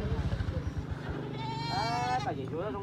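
Goats bleat at a morning livestock market, a wavering cry rising clearly after a stretch of someone talking nearby, with another short bleat near the end.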